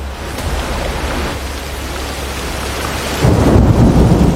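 Heavy rain pours steadily with deep thunder rumbling underneath, and the storm swells louder near the end.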